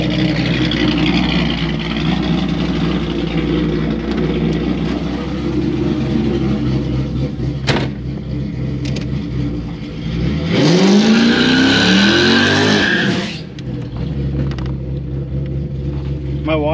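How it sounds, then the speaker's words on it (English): A Hurst Olds with a Texas Speed LS engine revs hard nearby in a loud outdoor setting, a steady low rumble swelling into a sharp rising rev burst near the end, with talk underneath. "That's his Hurst Olds with a Texas Speed LS in it."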